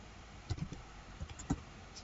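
Keys on a computer keyboard are tapped while text is typed, a few soft clicks in small bursts, quiet and close with no talking.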